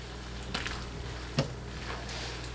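Shrimp fry in a pan for shrimp scampi, a soft steady sizzle with a few stirring clicks and scrapes, fairly quiet throughout.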